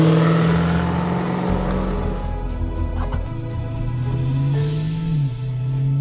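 A 2015 Dodge Challenger R/T Scat Pack's 485-horsepower engine roars steadily at speed on a wet Portland International Raceway, pitch rising and then dipping as it shifts, loud and close throughout with no voices.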